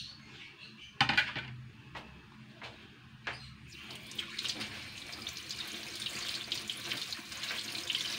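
Malunggay leaves are washed under a running kitchen tap, with a few sharp knocks at first and then a steady close rush of water splashing over the leaves.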